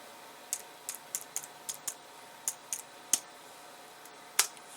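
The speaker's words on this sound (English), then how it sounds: "then you type in your password" Keys tapped on an iMac keyboard, about a dozen separate clicks in an uneven rhythm, close and fairly crisp over a quiet room hum, with no one speaking.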